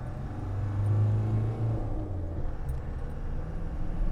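A Land Rover Defender D110 drives along twisty roads, its engine giving a steady low rumble from inside the cabin with faint road noise and no talk.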